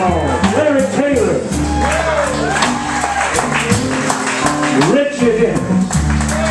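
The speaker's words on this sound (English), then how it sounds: "How about it for this fantastic band, y'all? Give a big round of applause" Audience at Biscuits applauding a live blues band, steady clapping and a few shouts mixed under voices speaking throughout.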